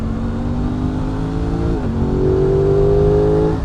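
A Honda Hornet 919 motorcycle engine pulls hard uphill, a loud, steady rising drone that dips briefly at a gear change near the middle before climbing again, close and continuous with no talk.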